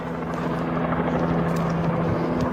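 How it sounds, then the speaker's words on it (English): A helicopter flies overhead, its rotor giving a steady, close, throbbing drone through the whole stretch, with no speech. "There's the helicopter."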